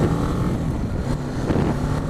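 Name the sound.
motorcycle engine running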